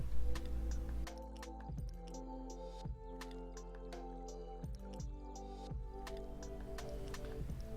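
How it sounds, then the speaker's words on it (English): The Baron mead from Black Labs Craft Meadery pours into a glass in a slow, close stream with soft drips and squishy liquid sounds, quiet and without talk. "see if we can get a slow motion pour on that"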